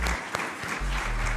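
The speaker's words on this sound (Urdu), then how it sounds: "وہ موجود، ان کے لیے بھرپور تالی لگائیں۔" Audience applause at a ceremony honouring a female shooter who qualified for Paris, a brief burst of clapping from a crowd heard under a loud amplified voice and music-like tones.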